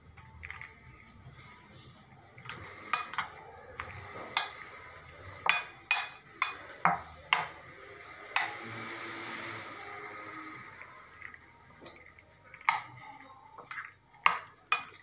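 Tuna, corn and mayonnaise salad being stirred in a bowl, with a steady series of sharp clinks and scrapes of a utensil against the dish, near and fairly quiet.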